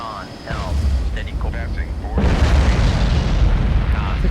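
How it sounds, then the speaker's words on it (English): Two deep, rumbling explosions from a naval combat video game, heavy low-end blasts that fill the clip, with faint radio-style chatter in the background. "I heard 2 explosions."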